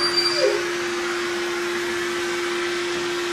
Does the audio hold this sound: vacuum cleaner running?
yes